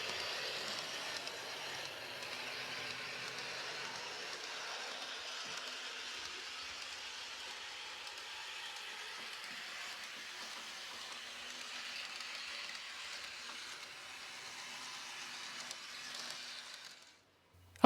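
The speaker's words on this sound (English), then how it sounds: "Here's the loco running around the test track at medium speed." A Revolution Trains Class 128 model locomotive running under DCC at medium speed around a test track, a steady broadband whirring hum of motor and wheels that holds constant and close for the whole stretch before cutting off at the end.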